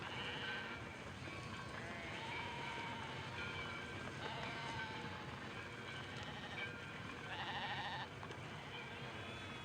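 Sheep bleat in a crowded, continuous chorus on their way to the slaughterhouse, layered over a steady low rumble of rolling train wagons, all fairly faint and distant.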